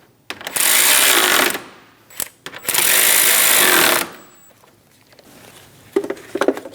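A power wrench snugs pulley bracket bolts on a 2005–2009 Subaru Legacy during a timing belt job, giving two loud, sustained buzzing bursts separated by a brief click and pause, then faint tapping.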